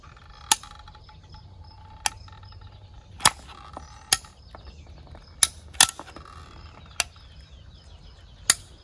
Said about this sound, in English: next insert your caulk in the caulk gun, your 45-degree angle cut, angle down for the application